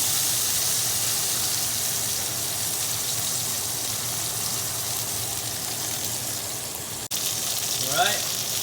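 Chicken pieces fry in a hot pan just after being turned, a steady close-up sizzling hiss that holds throughout, with a brief clatter near the end.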